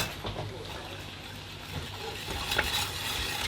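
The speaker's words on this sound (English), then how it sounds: "It's hard to whisk something with these large solids in it, like these 2 star anise and this cinnamon stick" A whisk scrapes and swirls through sugar syrup in a pot with two star anise and a cinnamon stick, giving irregular metallic stirring strokes over a low simmer, close by.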